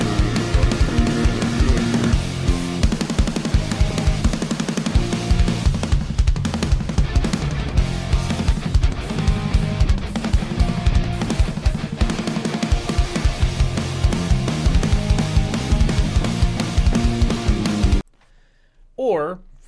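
Full-band rock music from a music video plays loud and dense for about eighteen seconds, then cuts off abruptly into a brief quiet moment.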